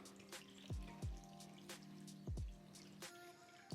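Water pours and drips onto curd in a bowl while gongura chutney is made, giving a handful of distinct splashy drips at irregular intervals, close and quiet.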